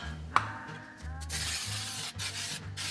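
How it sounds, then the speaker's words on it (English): Non-stick cooking spray hisses from a can into a regular-size muffin pan in a kitchen, a soft, close, continuous spray lasting a couple of seconds with a brief break, plus a light click at the start. "let me get my pan sprayed with some non-stick cooking spray"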